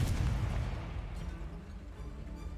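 Confringo blasting spell explosions in the Hogwarts Legacy video game, a loud, rumbling burst with heavy low-end boom that sustains and slowly tails off, no talking.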